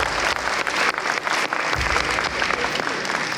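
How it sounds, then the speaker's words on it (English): Dense, loud audience applause at an award ceremony, many hands clapping together in a continuous roar with scattered louder claps, close and sustained for the whole stretch. "A round of applause."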